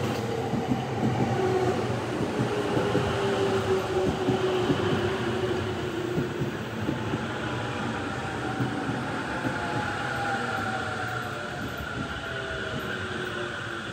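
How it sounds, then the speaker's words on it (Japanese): A JR Sobu Line local train runs at Hirai station during a heavy-snow warning, rumbling and clattering along the platform with long squealing wheel tones that fade slowly as it eases away. "今度の2番線の電車は17時1分発各駅停車津田沼行きです。"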